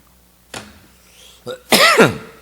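A sharp cough near the mic, then a brief pause, a short burst and a longer, harsher cough in a quiet room.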